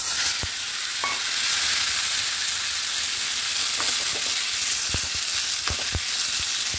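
Tomato dropped into hot oil with panch phoron, fennel, dried red chillies and black mustard seeds, frying in a pan with a steady close sizzle and scattered sharp pops and stirring clinks.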